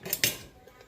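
Tender braised pork pata is shifted into another cooking pot for humba paksiw, with two quick metallic clinks of utensil against pot, close and brief.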